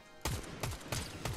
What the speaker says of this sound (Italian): Sparano lì, mi pare.